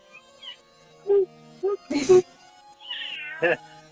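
A house cat meows several times in a small home room, short mid-pitched calls spread across a few seconds, with a louder burst in the middle and people talking softly nearby.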